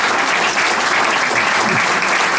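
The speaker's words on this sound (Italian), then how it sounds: "vogliamo un altro applauso" Audience applause for a Russian pianist at an evening tribute event, dense sustained clapping from a crowd, loud and even from start to finish.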